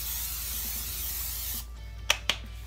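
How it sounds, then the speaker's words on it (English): Olive oil cooking spray hisses onto a pan in a kitchen, a steady close-up spray lasting about a second and a half, then stopping, followed by two sharp little clicks. "I'm gonna spray the pan with some olive oil cooking spray."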